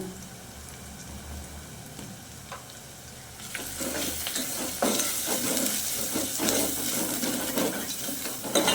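Turmeric and chili powder fry for sweet corn vada, giving a steady sizzle that grows louder partway through, with scraping stirs over the crackle close by.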